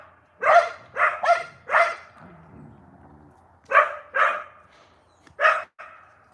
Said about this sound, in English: They saw like maybe a dog, and that's why they're barking.